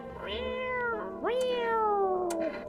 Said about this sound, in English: Yeah, sounds like a cat.